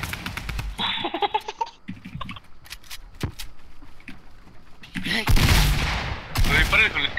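A Scar rifle in the video game Fortnite fires in several sharp, rapid bursts, loud and close, followed by a louder, busier stretch with laughter.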